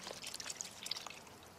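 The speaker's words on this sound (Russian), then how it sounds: "Сначала мы нальем примерно литр мясного бульона." About a litre of meat broth being poured into a pot on a stove; a faint, close liquid splash and trickle lasting just over a second, with no voices.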